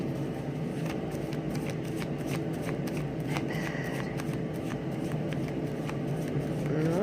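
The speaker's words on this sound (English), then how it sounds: "No, I was shuffling." Tarot cards are shuffled during a daily reading, giving soft repeated riffling and snapping clicks. The shuffling runs steadily under a low background hum with no talk.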